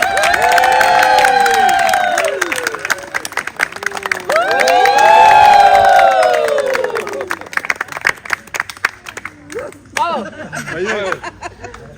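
Loud audience at a summer show, with a rising cheering crowd, shouts and whoops over dense clapping that trails into scattered claps near the end.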